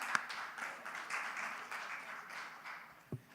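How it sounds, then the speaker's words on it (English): A crowd at a youth huddle meeting gives a faint, distant round of applause, a soft continuous patter of clapping with a couple of sharper nearby knocks. "Give her a round of applause, y'all."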